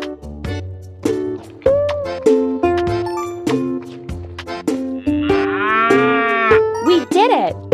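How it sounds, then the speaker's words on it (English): A cartoon cow in a children's animal feeding game moos repeatedly, loud and close, with long stretched calls, cheerful game jingles and a rising sparkly chime near the end. "Meet Molly the cow."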